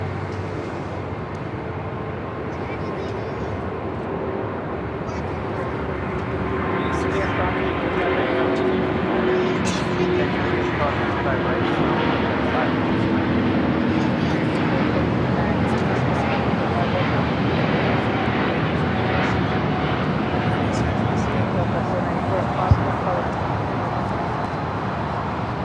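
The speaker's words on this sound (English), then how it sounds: "Second A350 with Delta heading to Atlanta. Now rolling down at 25 right." Delta Airbus A350-900 bound for Atlanta rolling down runway 25 right at Los Angeles International, a broad jet roar swelling over about twenty-five seconds from moderate to loud, with a voice talking over it.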